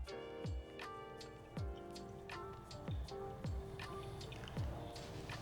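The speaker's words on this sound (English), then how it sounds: "Now we just need to wait for this to finish dripping through." Coffee drips steadily through a paper filter in a Hario V60 pour-over brewer, about one drop every second or so, each a clear, close, resonant plink with no talking.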